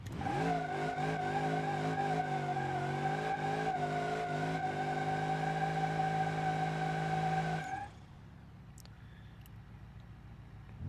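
Turbocharged Nissan 200SX-style car in BeamNG.drive revving hard at 14 psi boost with rising engine tone and tire squeal for about eight seconds, then cutting off abruptly to a quiet background.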